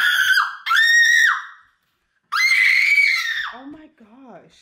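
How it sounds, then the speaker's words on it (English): Children screaming loudly in two long, sustained shrieks, the second fading into higher wavering cries, inside a home at night. "Why are you screaming?"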